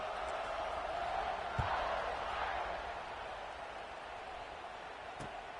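Stadium crowd in College Football 26 hums as a steady, distant murmur, with a couple of brief thumps near the start and end, no clear talk over it.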